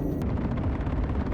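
Missile fire from a stealth Hornet ship in the space combat game Star Conflict, a dense, continuous roaring rumble with rapid launch bursts running through the whole short stretch, loud and close.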